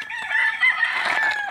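Chicks cluck and chirp continuously at close range while feeding from a makeshift trough, a busy flock sound with no talking.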